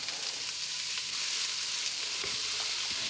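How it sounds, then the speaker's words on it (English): Diced turnip, onion, potato and carrot fry gently in sunflower oil, giving a steady, close hiss and crackle with a few louder pops near the end. "Fry the diced turnip, onion, potato and carrot gently until soft."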